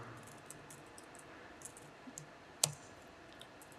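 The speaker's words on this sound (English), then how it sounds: "So this is a lot of typing, and it goes on and on." Kafka commands are typed on a computer keyboard with soft, scattered key clicks, one sharper louder click standing out, quiet and close.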